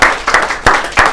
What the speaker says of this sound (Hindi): बहुत जोरदार तालियां निदाय अंजुम के लिए